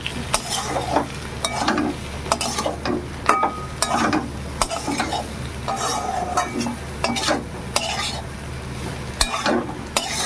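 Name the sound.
stirring cumin and coriander into cooking fish curry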